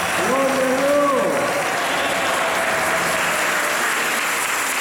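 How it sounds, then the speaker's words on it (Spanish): Church congregation applauding during a Catholic Mass, a steady broadband clapping that fills the whole clip, with a voice speaking briefly over it near the start. "Aplauso para Jesús."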